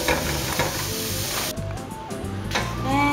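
Cubed vegetables for a veggie lasagna hit a heated pan, sizzling and crackling under background music, the hiss dropping briefly and then swelling again.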